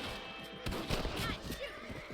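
Gunfire from the Western video game Red Dead Redemption, a few sharp shots cracking out amid game ambience while a voice speaks over them.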